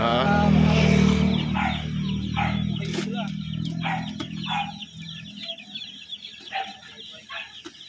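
Chicks and chickens cluck and chirp in a loose, busy scatter, close by, during transport, under a loud steady engine-like rumble that fades partway through.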